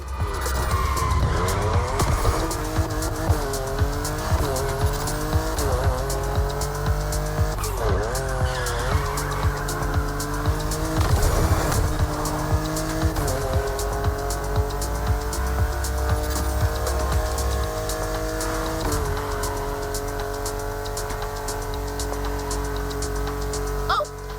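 Cars race on winding Hawaiian mountain roads in The Crew Motorfest video game in a two-car touge duel. Loud engines rise and fall through gear changes while tyres squeal and skid through the corners.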